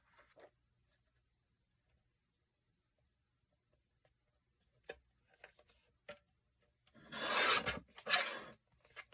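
A paper trimmer slices through paper, heard as a few faint ticks and rubs followed by a loud, close rasping cut lasting about a second and a half near the end.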